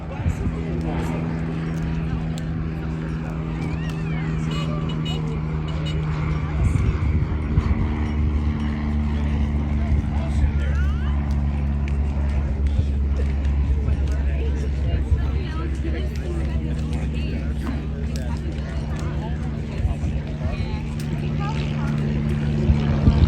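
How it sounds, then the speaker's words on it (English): Vintage WWII-era aircraft fly past, powered by small air-cooled flat-four engines, their steady droning hum holding for a long stretch and building slightly toward the end, with a faint voice underneath. "They're powered by small 4-cylinder air-cooled engines."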